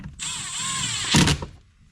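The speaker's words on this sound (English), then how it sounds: "going to put a couple of screws back in the top trim" A power driver spins a screw into the dash top trim of a Honda Civic during a car stereo install, one steady whirring run of about a second ending in a short louder clunk, close by with no talk.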